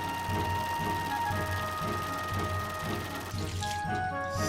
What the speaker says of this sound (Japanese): 家庭用洗剤で丁寧に押し洗いを繰り返す。